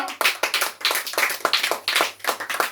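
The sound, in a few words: audience clapping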